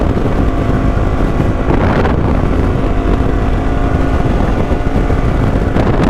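Adventure motorcycles cruising on a ride around Peterborough, their engines droning loud and steady throughout, with heavy wind rush buffeting the microphone.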